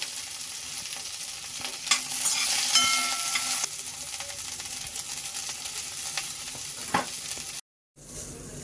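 Oil and peanuts heat in a pan, giving a continuous sizzle with scraping stirs. It is loudest early on, then eases to a softer crackle, and cuts out briefly just before the end.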